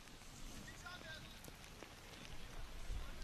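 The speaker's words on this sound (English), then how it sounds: "That rain is starting to get a little bit heavy now" Heavy rain falls on an outdoor cricket ground during a night T10 match in Portugal, a steady broadband hiss that swells louder toward the end, with faint crowd or commentary murmur beneath.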